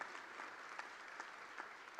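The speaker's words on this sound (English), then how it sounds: "I tell you, and you can clap if you want to," A commencement audience applauds in a large hall, a steady wash of many hands clapping evenly for the full stretch without pause.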